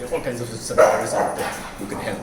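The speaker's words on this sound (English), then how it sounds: "I'm sorry about the barking at the back." A dog barks and whimpers in the background behind someone speaking in a comedy talk, the yips faint and partly masked by his voice.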